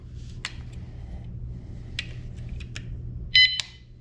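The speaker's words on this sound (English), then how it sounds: "Okay, 1 little beep, not bad." A bike lock alarm gives a single short electronic beep close by near the end, set among small clicks and handling noises over a low hum.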